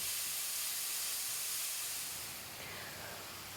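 Minced pork and chilli dry frying in a hob pan with no oil, giving a steady, close, broad hiss like steam that eases slightly toward the end, with no talking.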